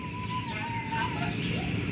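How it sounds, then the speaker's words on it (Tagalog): A bird calls over a low background hum, giving a thin, drawn-out whistle that wavers and repeats faintly across two seconds. "Ibon. Tingnan nyo ah."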